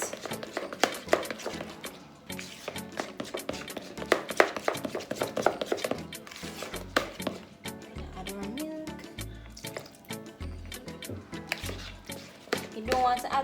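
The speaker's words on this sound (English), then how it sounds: "Now mix, mix, mix." Banana cake batter with flour is stirred and mixed by hand in a bowl, giving quick irregular taps and soft squishy scrapes close up, with a voice talking over it.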